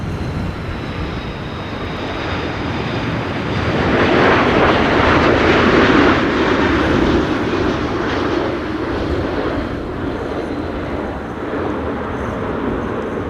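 An airplane lands at Amsterdam Schiphol Airport in high winds during Storm Benjamin. A broad, steady roar builds to a peak midway, then settles back into a sustained rumbling hiss of engine and wind.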